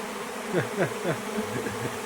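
Many honey bees buzz close by after dark around turned-on lights, a dense droning hum with individual bees swelling louder as they pass, no voices.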